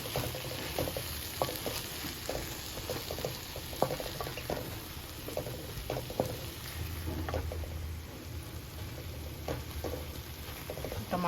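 Tomato pieces and tamarind frying for mint chutney, a steady close sizzle and bubbling with repeated stirring clinks and scrapes of a spoon against the pan throughout.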